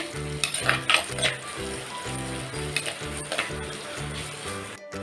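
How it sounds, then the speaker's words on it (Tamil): Finely chopped large onions with a few curry leaves fry in a pan for Chennai-style vadacurry, a steady close sizzle with a regular rhythmic stirring pulse and light scrapes of the spoon against the pan. "இந்த வெங்காயம் நல்லா செவக்க வதக்கிக்கணும்."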